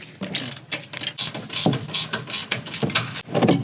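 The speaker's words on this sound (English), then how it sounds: "Now it's got a welded nut on the other side, so we just need to loosen the bolt." A ratchet wrench loosens a bolt on the suspension of a RAM 1500 pickup during a lift kit install, giving rapid, close, continuous clicking in uneven strokes, loud and with no voices.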